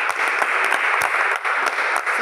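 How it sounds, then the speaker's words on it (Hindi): Loud, dense applause from an audience at a business gathering, steady clapping filling the whole stretch without pause. "जोरदार ताली हो जाए"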